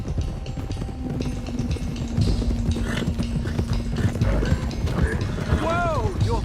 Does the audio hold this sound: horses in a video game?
yes